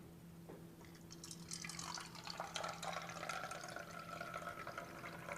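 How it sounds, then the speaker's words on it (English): Water being stirred in a container during a chlorinated tap water demonstration, giving a continuous liquid swishing and sloshing over a low steady hum, moderately quiet with no talking. "Just going to give this a little stir, just like we would."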